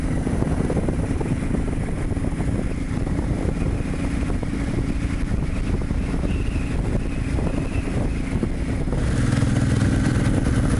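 Steady engine and road rumble from a vehicle driving on a country road between fields in France, continuous and fairly loud with wind buffeting, no speech.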